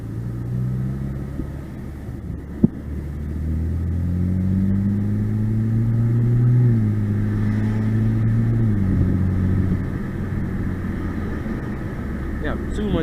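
A turbocharged BMW 328i engine drones loudly from inside the cabin, rising and dropping in pitch as it accelerates and shifts, with a single sharp click early on.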